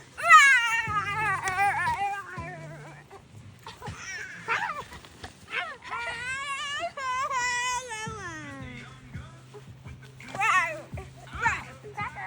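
A cat meows repeatedly in drawn-out, wavering cries, loud and close, while children chatter and shout around it.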